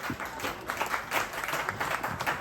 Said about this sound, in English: let's give everybody a round of applause for that.